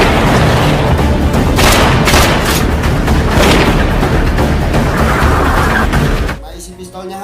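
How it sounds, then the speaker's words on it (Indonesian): Dense, loud bursts of gunfire and booming impacts from a pistol shootout in a film pile up almost continuously, then cut off abruptly near the end. "namun beruntungnya Dan berhasil menghindar dari tembakan Willy."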